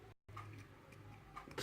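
Small, faint clicks from an Ilco challenge lock cylinder being single-pin picked, a few quiet ticks in quick succession with one brief dropout.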